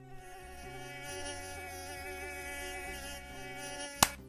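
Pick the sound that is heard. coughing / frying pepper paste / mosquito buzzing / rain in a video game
mosquito buzzing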